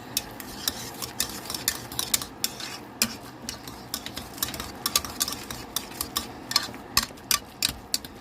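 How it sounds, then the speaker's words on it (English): A spoon works through a meatloaf mixture seasoned with black pepper, producing a steady run of sharp clicks and taps against the bowl, close and rhythmic over a low, damp stirring noise, with no voices. "Stir it all up."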